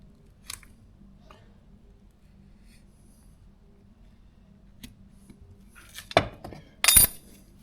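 Scissors cut into a plastic toy fish being made into a swimbait, giving a few sharp snips near the end after a long quiet stretch with faint handling clicks.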